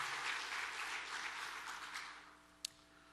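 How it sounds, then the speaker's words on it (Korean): Faint applause from a church congregation for the Gloria choir, a soft broad patter that gradually thins and dies away, ending with one sharp isolated click. "박수 한번 다시 해주시기 바랍니다"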